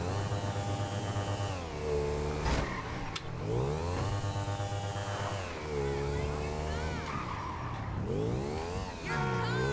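Motorbike engine in GTA V, set in Pakistan, revving and shifting steadily through gears, with sharp pitch swoops and a couple of brief loud clicks, loud and continuous.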